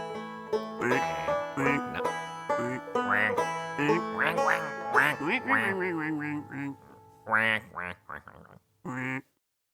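Nasal, harmonic quacks come in quick uneven bursts, close and fairly loud, with pauses near the end. The duck calls appear to be voiced by a person rather than made by a real duck.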